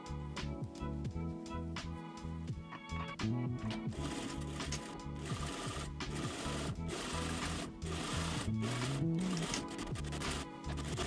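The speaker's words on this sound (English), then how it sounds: "push the seam allowance to one side and top stitch" A sewing machine topstitches the seam of a fabric sun hat or bucket hat, running in a steady, continuous mechanical whir that holds close and loud throughout.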